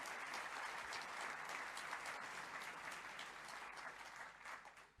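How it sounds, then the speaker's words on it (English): Sustained, dense applause from a large audience at a lecture announcing the SAR Khafre Project, steady and loud throughout before tapering off at the end, with no talk over it. "Give yourselves a round of applause, because you are truly extraordinary."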